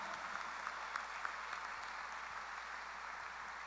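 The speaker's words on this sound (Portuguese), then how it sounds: "Quem está pronto para receber, dá um aplauso bem forte ao Senhor." Church congregation applauding during a worship service, a faint, even wash of many hands clapping at once, steady across a few seconds.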